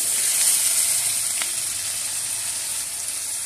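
Spices fry in a hot pan for a curry of hilsa fish and taro stolons, a steady, close hissing sizzle with no talk.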